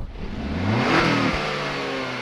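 A 2022 Acura RDX A Spec four-cylinder engine heard from outside as the car passes, a steady engine note rising and pitching through a brief rev, moderately loud with road whir and no talking.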